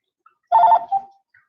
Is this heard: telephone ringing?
yes